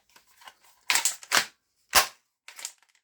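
A toy blaster with a six-round magazine fires several sharp snapping shots, with a few quieter clicks between them and a short gap before the last pop.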